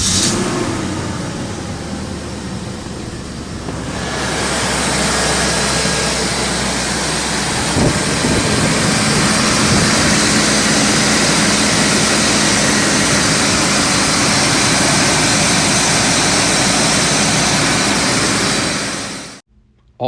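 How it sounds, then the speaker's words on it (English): BMW E34 M540i V8 engine cold start: after a few seconds of quieter sound the engine catches with a sudden loud roar, then settles into a steady, powerful high idle close by until it cuts off abruptly. "here's a cold start video for you to see that engine in action"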